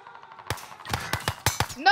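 Sharp gunshots in the video game Warzone: about six separate cracks between the half-second mark and the end, loud against a quiet background, in an irregular rhythm.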